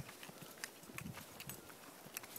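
A horse standing near a fence on a farm with cows, its hooves clip-clopping in faint, scattered steps over a soft outdoor background.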